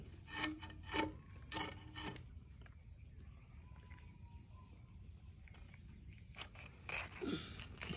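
Hilsa fish being cut at home, likely a fish of around one kilogram, with close rasping, scraping strokes in short bursts early and late, separated by a quieter stretch of low background noise.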